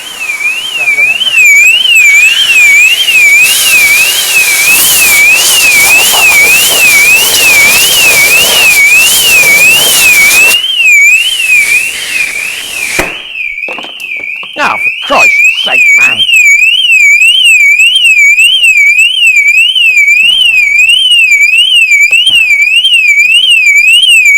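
A loud warbling Mercedes Vito van alarm wails continuously, rising and falling in a siren-like pattern, with someone briefly speaking over it.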